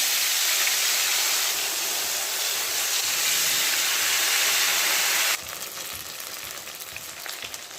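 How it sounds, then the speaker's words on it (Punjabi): Bread pakora slices go into hot oil, producing a loud, close, rushing sizzle that drops abruptly to a quieter, steady crackling frying hiss partway through, with no talk. "ਤੇਲ ਹੋ ਗਿਆ ਆਪਣਾ ਗਰਮ ਤੇ ਹੁਣ ਆਪਾਂ ਇਸ ਤਰ੍ਹਾਂ ਬ੍ਰੈਡ ਪਾ ਦਿੰਦੇ"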